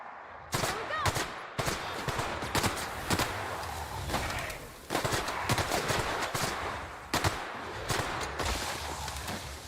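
Repeated gunfire in The Outer Worlds video game, sharp loud shots in irregular bursts and rapid volleys across the whole stretch, with a continuous noisy backdrop beneath.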